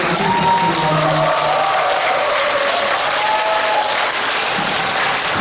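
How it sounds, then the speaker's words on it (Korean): A church congregation at a diocesan Holy Spirit gathering bursts into loud, sustained applause, a dense wash of clapping from a large crowd that keeps going from start to finish. "지금까지 방해해주신 친구분께 감사의 큰 박수 다시 부탁드립니다"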